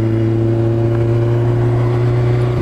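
A motorcycle engine holds a steady, strained drone while the rider slips the clutch for a second-gear wheelie, loud and close with a sustained even pitch and no talking.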